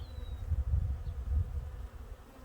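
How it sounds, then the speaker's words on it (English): Striped European honeybees buzz around a DIY bucket feeder, a low, wavering drone that swells and fades as insects fly close past. "all these are, you know, striped European looking honeybees"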